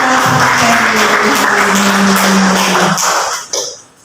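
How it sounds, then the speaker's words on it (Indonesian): Applause from a school audience at the close of a teachers' presentation, a dense steady wash of many hands clapping, loud and sustained, with a voice faintly underneath, before it thins out and stops. "Mari kita berikan tepuk tangan yang meriah kepada kita."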